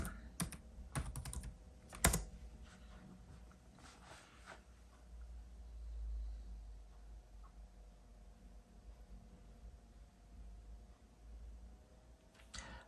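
A computer keyboard types a simple password during a laptop operating-system install. There are quiet, close clicks in a brief burst, then a few sparse taps over a faint room hiss.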